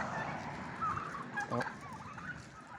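Several chickens and turkeys call close by in a garden, with gobbling and clucking sounds overlapping against a busy outdoor background.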